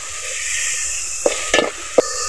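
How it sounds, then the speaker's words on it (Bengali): Turmeric and chili powder masala frying in a pan, a steady bright sizzle with a few sharp scraping knocks as it is stirred with a knife near the end, close and fairly loud without speech. "এভাবে ছুরির সাহায্যে সবগুলো উপকরণ 2 মিনিট কষিয়ে নিতে হবে"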